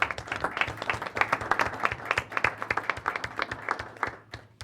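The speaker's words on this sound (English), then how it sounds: "Round of applause." Audience applause at a school board of education meeting, a room full of hands clapping steadily with dense, crisp claps that taper off near the end.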